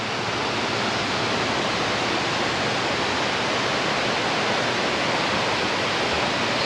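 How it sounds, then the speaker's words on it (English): Water rushes steadily into the 40-foot chamber of Lock 17 on the Erie Canal, a loud, even roar of turbulent flow that holds constant without a break. "So now the task of filling up this chamber with 40 feet of water."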